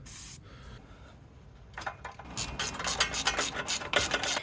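A socket wrench with an extension ratchets on an engine mount nut of a Toyota Altezza, giving a quiet start and then a series of close, quick clicking and rubbing bursts that grow busier toward the end, with no talking.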